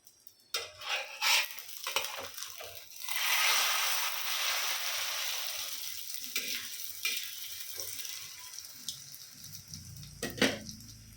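A roadside-style kalakki egg is flipped in a hot pan, a burst of scraping and clatter followed by a steady, close sizzle of frying that fades slowly, with a few more spatula knocks near the end.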